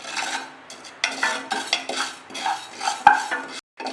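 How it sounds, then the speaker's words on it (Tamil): Fenugreek and other spices for sambar powder dry-roast in a pan, stirred with a series of rhythmic scraping, rasping strokes close by, ending in a brief silence. "வெந்தயம் எல்லாமே லைட்டாக வாசம் வர வரைக்கும் மட்டும் வறுத்துக்கிட்டா போதும்"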